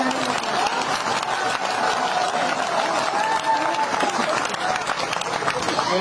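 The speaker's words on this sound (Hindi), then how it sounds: "ताली वाली बजाओ एक बार यार।" Audience applause at a poetry event, a steady round of clapping throughout with voices talking and murmuring over it.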